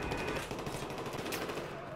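Video game gunfire rattles in rapid repeated bursts like an automatic weapon, fairly steady and mid-distance across the whole stretch, with no speech over it.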